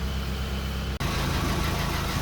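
Refreshed 4G92 engine in a Mitsubishi Lancer GSR idling smoothly and steadily nearby, a continuous low hum with one brief dropout partway through.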